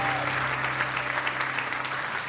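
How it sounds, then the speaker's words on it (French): Audience applause at a French-language church gathering, a steady dense wash of many hands clapping, moderately loud and even throughout. "Est-ce qu'on peut les applaudir bien fort?"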